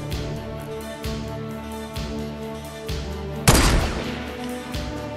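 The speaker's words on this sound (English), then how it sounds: "I'm just shooting my semi-automatic rifle into the carnage." Semi-automatic rifle fire in a hunting game aimed at fighting bulls, a run of evenly spaced shots about a second apart under a continuous tonal background, with one sharper, louder blast near the end.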